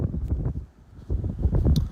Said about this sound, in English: Down this windy tunnel. Phone blowing out of my hand over here.